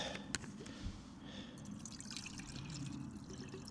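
Water trickles and splashes softly into a camping pot outdoors on the Isle of Man, a faint brief pour with light drips, no talk over it.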